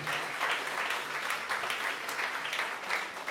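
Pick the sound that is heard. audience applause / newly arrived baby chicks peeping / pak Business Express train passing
audience applause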